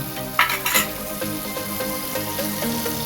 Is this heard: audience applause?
no